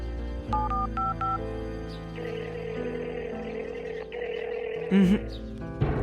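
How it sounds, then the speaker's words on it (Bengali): Telephone keypad tones dialing a number in a Bengali cartoon: a quick run of short electronic beeps early on, followed by a steady tonal background. "এই তুই এখন একবার ফোন করে দেখ তো তোলে নাকি"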